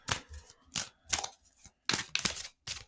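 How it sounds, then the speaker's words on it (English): Tarot cards being shuffled by hand, heard as several separate bursts of crisp riffling and snapping with short pauses between them, close up and alone with no talking. "I'm shuffling right now the cards"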